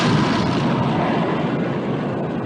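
Warship naval guns fire in a 1960 Bismarck battle film, producing a loud, continuous roar of heavy gunfire and rumbling blasts that fills the whole moment with no clear separate shots.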